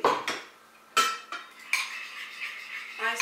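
Utensil whisking salad vinaigrette with salt in a bowl, giving a series of close scraping and clinking strokes in uneven bursts, without talk.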